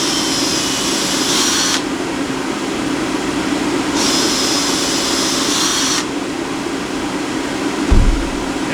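A power drill bores holes into the wooden sides of a wood duck nesting box. It makes a loud, steady whine in two bursts of about two seconds each, separated by a lower running hum.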